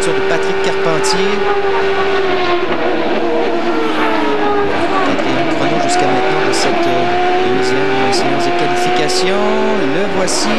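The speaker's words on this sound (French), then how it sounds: "Toujours à bord de la voiture de Patrick Carpentier" Onboard a Champ Car during qualifying at the 2003 Molson Indy in Montreal, a loud continuous engine scream rises and falls through shifts and braking, with short sharp bursts on top and a commentator talking over it.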